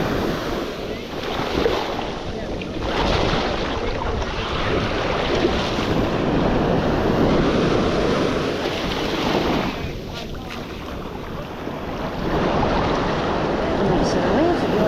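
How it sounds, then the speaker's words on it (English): Ocean surf at Manasota Key beach rushes and breaks continuously close by, with a churning roar, heavy wind buffeting, and surges swelling and easing over about fifteen seconds. "So the waves are doing this."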